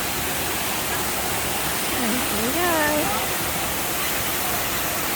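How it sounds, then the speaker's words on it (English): Water rushing loudly and steadily at a bird park in Singapore, a dense close roar filling the clip while a bird call rises briefly in the middle and a voice speaks over it. "I thought I'd video this so you could hear the noise of the water."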